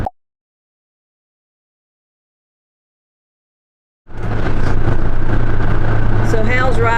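Interior road noise from a Winnebago EKKO camper van built on a Ford Transit while driving, a steady loud rumbling drone that begins abruptly after several seconds of silence and continues to the end.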